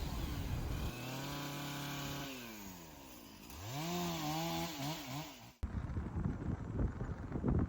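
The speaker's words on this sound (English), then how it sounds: "some of the locals carried chainsaws, and so the guys jumped out to help clear the road" A chainsaw clearing fallen trees from a road after Hurricane Helene drones and revs up and down in pitch while cutting, then cuts off abruptly, followed by rustling and outdoor noise.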